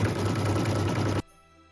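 A sewing machine stitches decorative lines in gold thread onto fabric letters for a Christmas ornament, running as a steady, fast mechanical whir that stops abruptly near the end, leaving quiet.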